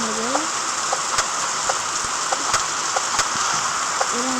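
Rain falls in the forest of the video game 99 Nights in the Forest, a steady broadband hiss of downpour with occasional sharp drop ticks, plus faint short voice-like sounds in the background.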